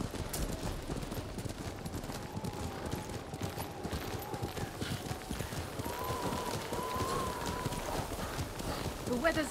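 In the video game Ghost of Tsushima, a ridden horse's hooves clip-clop in a steady rhythm through a snowy landscape, close and continuous, while characters talk over the hoofbeats.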